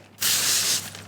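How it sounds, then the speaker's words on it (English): A can of rice bran oil cooking spray gives one steady hissing burst of about half a second, close and loud, then a faint tail of room noise. "Get some rice bran spray"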